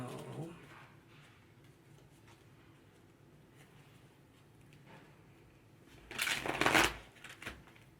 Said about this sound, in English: just going to shuffle these cards here.